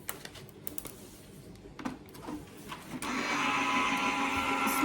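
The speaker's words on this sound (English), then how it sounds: "I'm going to put this through my die cutting machine" A die cutting machine feeds a plate and die through. A few handling clicks and taps come first, then a loud, steady mechanical whir of the rollers runs to the end.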